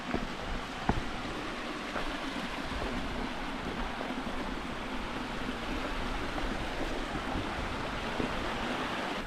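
Steady broadband rush of a Scottish mountain stream swollen by snow and rain on the path toward a scramble near Ben Nevis, continuous and fairly even with no voices.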